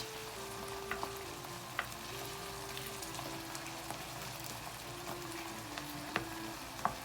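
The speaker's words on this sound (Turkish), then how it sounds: "Şimdi birazcık sarımsaklarımızın sote içerisinde yumuşamasını bekleyelim" Garlic softening while sautéing in a pan for an oyster mushroom and kaşar cheese casserole, a steady close sizzle with scattered small pops and crackles throughout.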